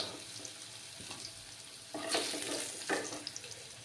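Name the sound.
potatoes frying in oil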